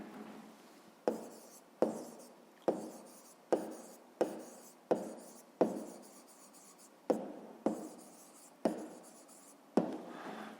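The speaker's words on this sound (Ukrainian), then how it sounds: "записуємо відповідь" Pen or pencil writing out an answer by hand on paper for a fifth-grade maths exercise, a close series of about ten scratchy strokes in steady rhythm, each starting sharply then trailing off, with no talk.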